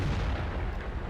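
Tank cannon fire in World of Tanks, played from an American T32 heavy tank, a dense low-heavy boom and rumble that fills the short moment with no talk over it.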